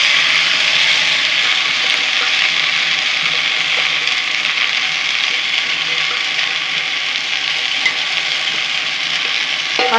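Chopped green chillies frying in hot oil in a pan, a loud, continuous hissing sizzle that holds steady throughout.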